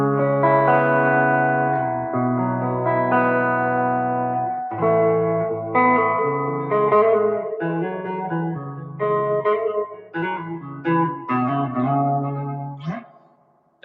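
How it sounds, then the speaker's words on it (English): Electric guitar played through a small Fender Princeton amp with its spring reverb turned fully up, ringing chords and single notes with a splashy, wet tail. It plays close and loud throughout with no talking, and a final twang at the end. "So that's real spring reverb."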